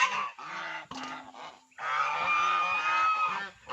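A goose kept apart with its goslings honks repeatedly, close and loud, in a run of harsh nasal calls with brief gaps between them.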